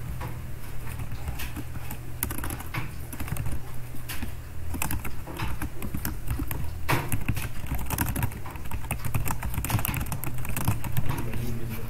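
Steady, dense clatter of fingers typing on a computer keyboard, close and fairly loud, continuous for the whole stretch with no voices.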